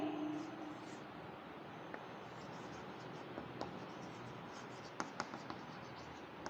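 A definition being written out by hand during a class: quiet, continuous pen-scratching strokes with a few faint taps, close but soft over a low room hiss.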